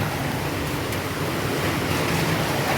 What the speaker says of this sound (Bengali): আর বাতাস আছে, বাতাসটা ঘরে ঢুকতেছিল সব বাইরে।